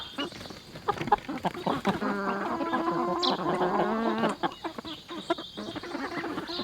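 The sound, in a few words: chickens clucking in coop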